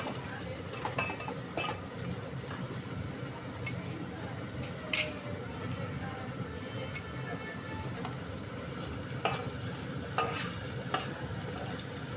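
Onions frying in a pan for a chicken curry, a steady quiet sizzle like light rain with occasional soft scrapes and taps of stirring, faint and continuous with no talk.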